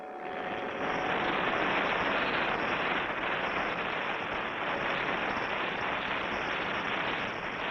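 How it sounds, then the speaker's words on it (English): A wind-up folding model airplane flies as a cartoon effect, giving a loud, steady, broadband propeller drone that holds continuously from start to finish. "Your folding model airplane. Here it is, Clutch. Wind it up and let it go."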